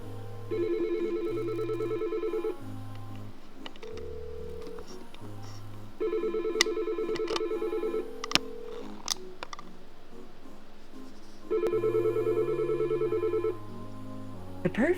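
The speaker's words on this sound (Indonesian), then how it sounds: "Kita biarkan saja telepon itu berdering untuk mengetes" An office telephone rings in repeated electronic bursts, several rings with short pauses between them, fairly close and clear, with faint tones and clicks in between.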